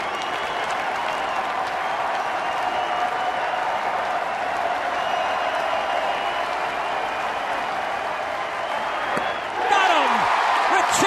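A sellout baseball crowd at a Pirates-Dodgers game in Pittsburgh roars and applauds steadily, a dense sustained cheer with no break, swelling slightly near the end.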